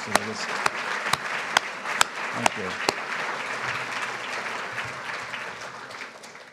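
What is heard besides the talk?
audience applause for patient panelists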